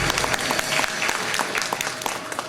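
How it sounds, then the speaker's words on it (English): An audience at a school winter concert breaks into steady, dense applause for a roadie, clapping continuously and filling the hall. "Let's have a good big round of applause for our roadie here"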